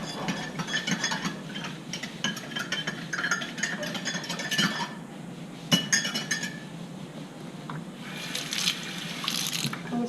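Metal clinks, taps and watery swishing as a small amount of patina solution is stirred in a container for jewellery work, an irregular close series of chinks and a brief pause before more stirring, no talk.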